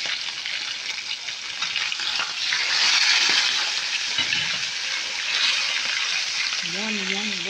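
Fish frying in a smoking-hot pan, a steady close sizzle and crackle that carries on throughout and swells slightly midway, with a brief tone near the end.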